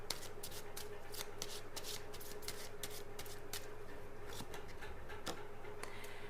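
Tarot cards being shuffled close by, a steady rapid flutter of riffles and soft snaps running continuously without talk.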